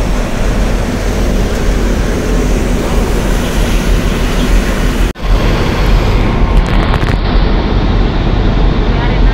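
Heavy, steady roar of big ocean waves and wind around a ferry at sea, loud and continuous, with a brief dropout midway and a hissing edge later on.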